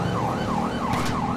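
Police sirens wailing in a GTA game chase, two cycling wails overlapping steadily and loudly, with the hum of vehicle engines beneath and a brief burst of noise near the end.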